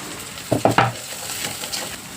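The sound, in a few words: green chillies and curry leaves sautéing in a pan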